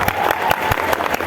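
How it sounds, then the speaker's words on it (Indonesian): Brief, loud burst of audience applause in a hall, dense overlapping clapping with a few sharper claps standing out. "Tepuk tangan dong."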